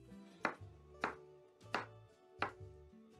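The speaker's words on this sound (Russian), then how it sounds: "Нарезаем ананас." Four sharp knife chops through a pineapple on a cutting board, evenly spaced about half a second apart, close and fairly quiet, with a soft low hum underneath.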